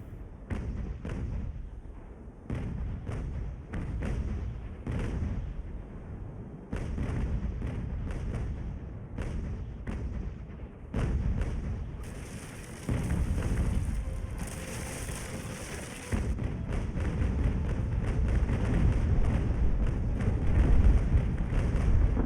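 Ships of the line fire broadsides in the naval game Ultimate Admiral Age of Sail, a rapid series of heavy booming cannon thuds over a rumbling, crackling din, loud and dense.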